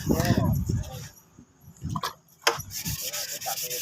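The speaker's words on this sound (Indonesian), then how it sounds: "Kita gunakan kertas gosoknya yang ukurannya 2000 karena ini hanya kusam saja" Orange paint on a Honda Beat motorcycle's top body panel and front fender is rubbed down with 2000-grit sandpaper, giving close, irregular scratchy strokes with pauses between them, and some speech mixed in.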